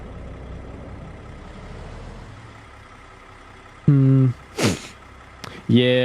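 A truck's trailer tandems slide back in American Truck Simulator, heard as a steady low engine idle followed by a loud, tonal air-brake hiss and pneumatic bursts near the end.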